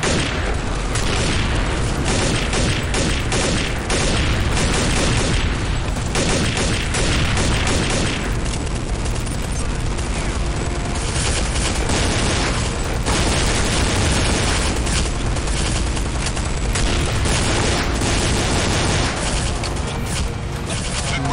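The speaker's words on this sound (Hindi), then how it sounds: "बहुत फायरिंग चल रही है" Dense, continuous gunfire and booming explosions from Counter-Strike: Condition Zero, loud and relentless throughout, with rapid overlapping shots and heavy blasts layered into a thick battle roar.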